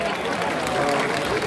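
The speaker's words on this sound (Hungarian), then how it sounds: "Nagy tapsot kérek neki!" Dense, loud crowd applause for a presenter at a beauty pageant results ceremony at an outdoor town festival, continuous and enveloping with crowd noise and voices underneath.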